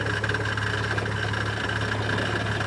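A Jeep engine idles on a steep off-road trail near a radio tower, a steady low rumble with faint vibration, continuous and even at moderate level.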